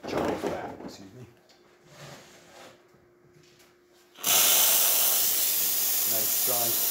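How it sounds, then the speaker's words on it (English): An espresso machine's steam wand, just repaired, bursts into a loud, steady, forceful hiss partway through and holds it to the end, after a quieter stretch of small handling noises. "Nice strong steam. Shuts right off."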